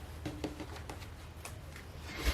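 A deck of tarot cards is shuffled quietly by hand in a few soft riffling bursts and taps, close but faint against a still room.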